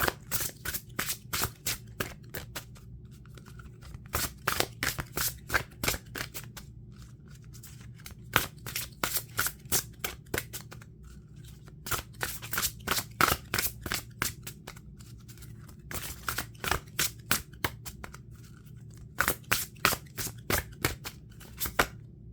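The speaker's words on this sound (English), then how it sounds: "I'm going to pull you a goddess card to go ahead and get started" Goddess oracle cards being shuffled by hand, repeated crisp riffling bursts in irregular clusters with short pauses, close and fairly soft, no speech.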